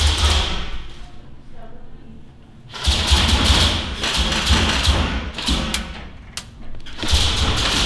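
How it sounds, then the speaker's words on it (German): Airsoft guns fire at an indoor shooting range, giving loud bursts of repeated thumps and sharp cracks over a constant boomy background din. The bursts grow dense and steady in the second half of the clip. "Hier sind auch gerade Leute fleißig am Ballern."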